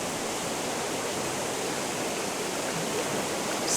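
Waterfall in the video game Gothic 1 Remake: a loud, steady, unbroken rush of pouring water that fills the whole stretch, with no voices.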